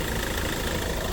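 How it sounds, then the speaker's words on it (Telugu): A 2016 Hyundai Elantra with a manual gearbox and a CRDi diesel engine idles with a steady, close rumble and an even mechanical clatter, with no voices over it. "CRDI diesel engine,"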